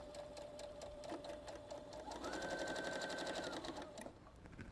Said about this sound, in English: I'm going to sew right up the edge.